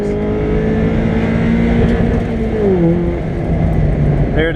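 A Mazda Miata race car accelerates on track at Picton, its engine note rising steadily through a gear, loud and close as heard from inside the car.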